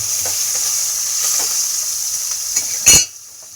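Prawns sizzling in mustard oil in a pan, a constant hiss with light stirring ticks, then a sharp utensil clatter near the end before the sizzle drops away.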